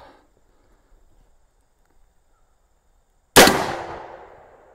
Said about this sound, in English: Tempered steel shovel versus Aea Zeus 72 cal penetrator rounds.